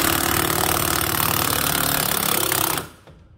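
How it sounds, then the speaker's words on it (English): An impact wrench hammers steadily on a stuck wheel of a Cub Cadet riding mower, a loud continuous rattling burst that cuts off abruptly near the end. "I'm gonna get an impact wrench to see if it'll come off now"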